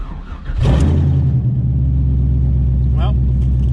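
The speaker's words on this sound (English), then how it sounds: "Well, fired right up." An LS-powered Camaro cranks and fires up, settling into a loud, steady, close idle with a deep rumble, and a brief voice comes in near the end.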